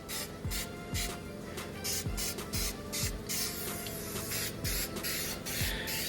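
Steady aerosol spray hissing in repeated bursts as a pitted chrome wheel is coated gloss black, close and continuous with short pauses between passes, no talking.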